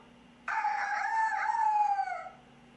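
A single long rooster crow rings out clearly against a quiet background, rising and then trailing off.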